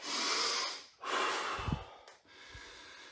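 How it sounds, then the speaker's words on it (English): Deep breathing after a lower-body home workout: three long, audible breaths close to the mic, each drawn in and pushed out with a soft rasp and a slight throaty catch, with no speech. "So nice deep breaths"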